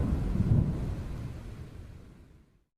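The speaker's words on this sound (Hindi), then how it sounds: "आई ये जोर से बरसात, यानी कि players are ducking for cover." A deep rumble of thunder with heavy rain breaks over an IPL cricket ground during the CSK versus LSG match, loud at first, then rolling away and fading to silence.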